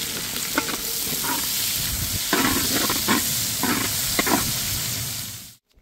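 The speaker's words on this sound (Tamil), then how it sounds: "வெங்காயம் நல்லா பொன் வறுவலாம் வந்துருச்சுண்ணா" Large onions fry to golden in a pan, a loud, continuous sizzle close up, broken by several short stirring scrapes.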